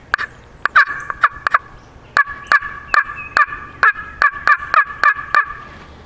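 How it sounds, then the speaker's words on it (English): A turkey slate call sounds a series of sharp, evenly spaced clucks, loud and close, about a dozen short yelps in a steady rhythm with no talking. "If you want to do just like a cluck"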